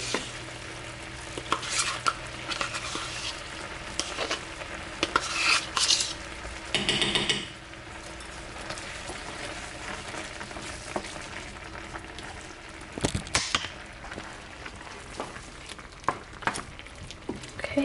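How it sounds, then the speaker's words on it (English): A spoon scrapes and stirs through butter chicken with plain yogurt in a pan, soft sizzling underneath and intermittent louder scraping clanks against the pan, close and fairly quiet with no talking. "Okay, so we're gonna stir all this in."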